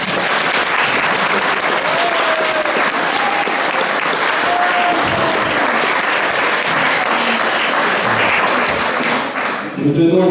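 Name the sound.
applause from the guests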